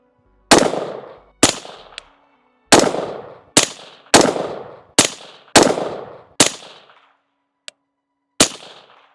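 Shots fired one at a time through a B&T Print-X 3D-printed suppressor, about ten sharp, deep reports at irregular intervals, each followed by a short decaying tail, loud and close, with no talking.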